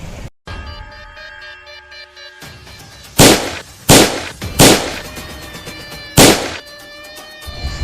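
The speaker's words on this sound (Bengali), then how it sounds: "স্যার ওদের গুলি করছে, গুলি করছে।" Staged gunfire in a drama: four sharp, loud shots ring out about a second apart after a quiet tense stretch, each with a brief echoing tail.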